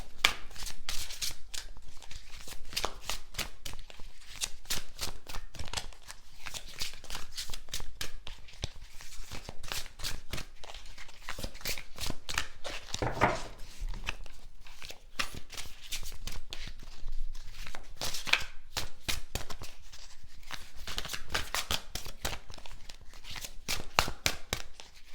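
Oracle cards are shuffled by hand before one is drawn, a long run of quick, close papery riffles and taps that continues steadily with no voices.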